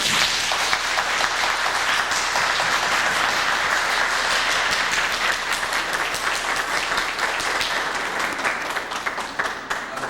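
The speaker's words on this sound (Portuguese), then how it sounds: "Isso, senhores, merece uma salva de palmas" Councillors and attendees in a municipal chamber give sustained, loud applause after a unanimous vote, a dense wash of clapping that tapers slightly toward the end.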